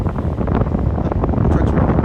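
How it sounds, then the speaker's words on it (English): Strong outdoor wind buffets the microphone in a continuous, loud, low roar with gusty fluctuations and no talking. "Notice how windy it is, and it's not super warm either."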